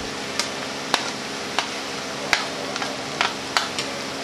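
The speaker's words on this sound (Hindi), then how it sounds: "अदरक लहसुन फ्राई हो चुका है। हरी मिर्चें डालेंगे।" Green chillies frying in a pan with ginger and garlic, a steady low sizzle broken by about eight sharp spoon-on-pan clicks spaced through the stir.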